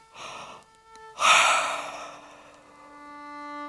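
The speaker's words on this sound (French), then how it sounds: "Bâillez." A person yawning during a relaxation exercise, with a short breathy inhale followed by a louder, drawn-out open-mouthed exhale that fades slowly, over soft sustained background tones.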